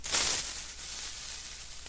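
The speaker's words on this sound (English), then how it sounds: "Let's import the creeper sound." The Minecraft creeper's video game sound, a sharp airy hiss that flares up loud at the start and then lingers as a steadier, softer fizz.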